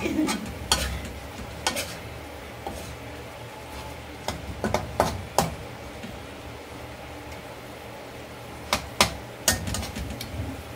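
Filipino adobo of chicken feet sizzles in a pan as eggs go in. Frying hiss runs steadily underneath, with sharp utensil clanks and scrapes against the pan at irregular intervals.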